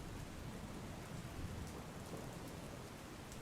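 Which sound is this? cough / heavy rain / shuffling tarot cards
heavy rain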